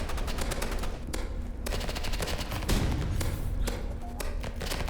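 Rapid gunfire from the video game Rivals, a dense stream of automatic shots and thuds filling the whole stretch at steady loudness, with no talk over it.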